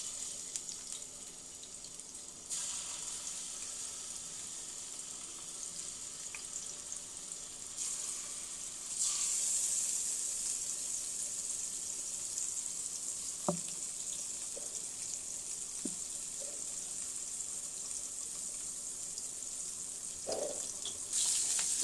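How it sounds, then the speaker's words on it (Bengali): Hilsa fish fry in hot oil in a wok for a village-style Bengali curry, giving a steady hissing sizzle throughout. It grows slightly louder partway, with a few faint clicks, and no voices. "তেলটা একটু গরম হলে আমি মাছগুলো ভেজে নেব।"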